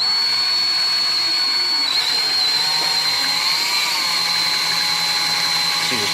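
A lathe tool post grinder driven by an electric drill, a steady high whine with a continuous motor drone that wavers slightly in pitch, loud and unbroken throughout.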